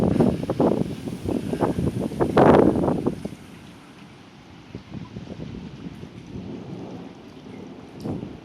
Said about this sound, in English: It's getting closer now. Wow, this storm's not messing around.